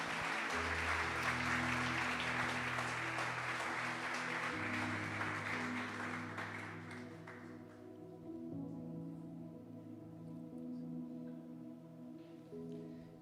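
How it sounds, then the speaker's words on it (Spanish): Church congregation applauding Diana and Alejo, a loud sustained wash of clapping that gradually thins and fades over several seconds while a low sustained musical tone plays underneath. "Un aplauso para ellos."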